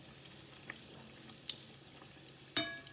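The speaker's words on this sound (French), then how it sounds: "je mets mes petits pains à frire" Small bread rolls fry in sunflower oil with a soft, steady sizzle and scattered crackles, one louder pop near the end; quiet and close, no voices.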